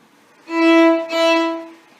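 A bowed violin sounds two detached notes of the same pitch in a single bow stroke, the first swelling and then briefly stopping before the second, played alone and close.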